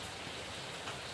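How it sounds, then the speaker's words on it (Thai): Steady rain falling outdoors, a dense, even patter of drops that carries on without a break, fairly close and moderate in level, with no voices. "ฝนมันตกนะครับแต่มันดีขึ้น"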